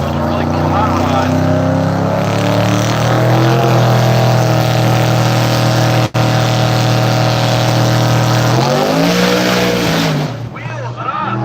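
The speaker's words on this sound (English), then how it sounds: "Wheels it up in the Mustang. Sets it down." Ford Mustang drag car at a street car takeover eliminations event roars loudly off the line, its engine a steady, powerful drone that shifts pitch near the end before fading, with a commentator heard over it.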